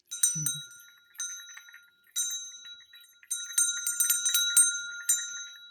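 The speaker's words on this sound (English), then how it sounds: "So there's going to be a little bell going on." A small antique hand bell rings in several bursts, bright and tinkling with a ringing overtone, each shake decaying before the next; close and fairly quiet.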